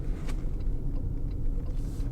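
Steady low road rumble and tyre noise fill the cabin of a 2024 Toyota RAV4 with a 2.5-litre 222 hp engine while driving, muffled and constant without speech.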